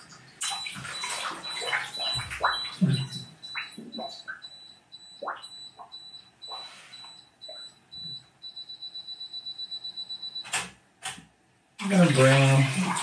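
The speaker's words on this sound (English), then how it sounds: "That's a good bubble noise." A bathtub filling with bubbling water, a steady run of regular pulses in the middle giving way to a loud burst of bubbling at the end, with someone talking over the earlier part.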